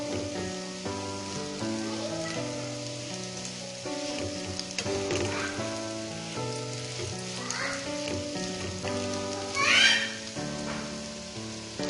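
Chicken shami kababs fry in a pan with a steady, crackling sizzle that runs throughout beneath louder background music.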